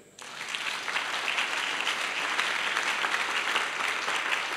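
A church congregation bursts into sustained applause that starts abruptly and stays loud and steady throughout, a dense wash of many clapping hands with no speech over it.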